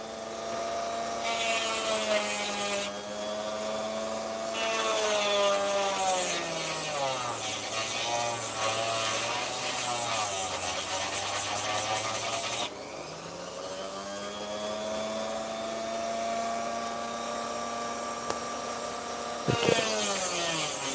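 A high-pitched rotary tool carves steadily through opal near a seam of sand, its whine rising and dipping as the load changes, continuous and close, with a brief sharp click near the end.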